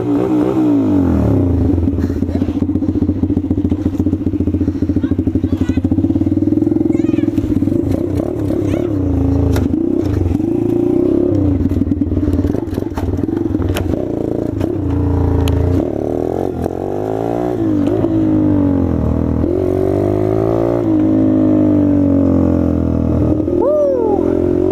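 Motorcycle engine revving loud and close while riding a small wheelie, a sustained roar that rises and falls with throttle, with people talking over it.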